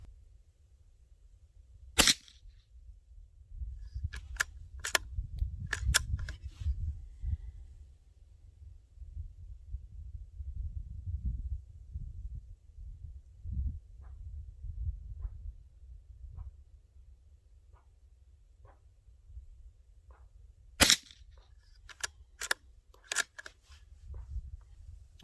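A Ruger Precision Rimfire rifle fires at targets 15 yards away on an NRL22 practice range, sharp isolated cracks spaced several seconds apart, with a quick cluster of shots near the end and low rumbling background noise between them.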